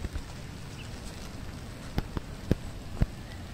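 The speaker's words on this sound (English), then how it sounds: "It's raining, man." Rain falling outdoors near fruiting plants: a steady soft patter fills the background, with a few sharp, distinct drops tapping close by at irregular intervals.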